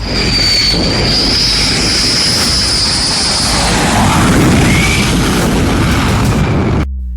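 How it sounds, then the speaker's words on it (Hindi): A fighter jet passing overhead, a loud sustained roar with a high whine that swells around the middle and then cuts off abruptly near the end, with no speech. "इजराइल ने जिस जंगी जेट से नसरल्लाह को मारकर उसका ट्रेलर दिखाया"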